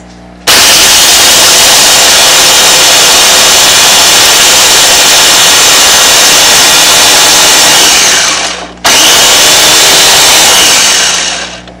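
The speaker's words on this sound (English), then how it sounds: "I'm going to plug her in, and then I'm going to grind it. It's going to get loud, guys." Electric meat grinder grinding meat for a carnivore pizza: a loud, harsh motor roar runs for about eight seconds, stops briefly, then starts again for a few more seconds.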